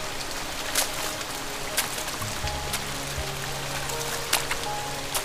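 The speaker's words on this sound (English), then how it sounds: "When did it become childish to enjoy the rain?" Rain in the video game Love & Deepspace patters steadily as a soft, even hiss, with scattered sharp drip taps and a low tonal hum joining partway through, no voices.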